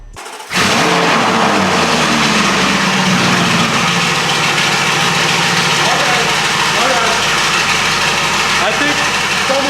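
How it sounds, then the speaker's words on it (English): A straight-piped Lamborghini Urus with a custom tune and exhaust roars as it is revved: a sudden loud, raspy, sustained engine blare that holds a dense, droning tone throughout, close and overwhelming. "We're gonna see the whole custom tune, exhaust, everything that they did on the Urus sound test."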